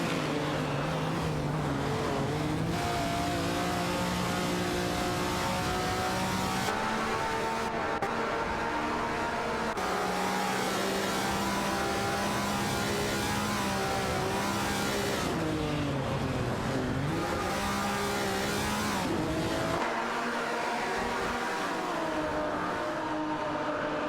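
Race cars fight for position in an AI racing game, their engines droning in a steady, loud whine that rises and falls as they shift gears through corners, with no voices.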